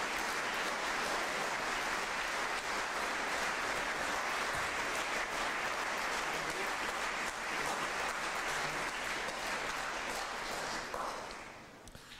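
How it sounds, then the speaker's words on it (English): Sustained audience applause for two speakers at a lecture, a dense, steady wash of clapping lasting about twelve seconds before tapering off at the end. "Please can you all give a round of applause to our two speakers"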